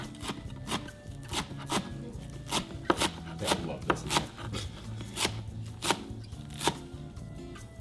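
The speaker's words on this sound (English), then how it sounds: "Alright, so now we're going to chop the cilantro." Cilantro is chopped on a cutting board with a very sharp knife: rapid, close, crisp blade knocks in an uneven rhythm, with a short spoken remark over them.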